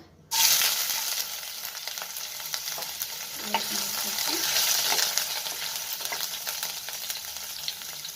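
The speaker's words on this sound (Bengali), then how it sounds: "তেলটা গরম হয়ে গেছে আমি দেব রসুন কুচি" Chopped garlic frying in hot oil for a potato and capsicum dry curry, a steady broadband sizzle starting abruptly and continuing close and loud, with faint spoon stirring clicks and no talking.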